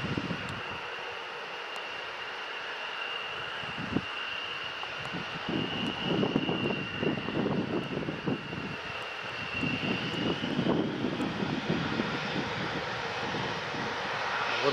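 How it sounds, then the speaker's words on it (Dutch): Several aircraft engines run up to warm at an air base, a continuous loud roar with a steady high whine that swells and recedes over about fifteen seconds, heard from outdoors with some wind buffeting. "Kennelijk een aantal vliegtuigen warm geblazen of warm gedraaid."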